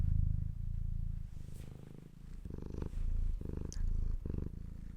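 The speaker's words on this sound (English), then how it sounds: "The ASMR, Lilith, just because she purrs so loud." A cat purrs loudly and close up, a steady rumbling rhythm of pulsing breaths that swells and eases, with no voices.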